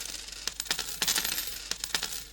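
A stream alert for a 5,000 bits cheer rings out as a rapid series of bright, metallic coin-like clinks, moderately loud and without any voices.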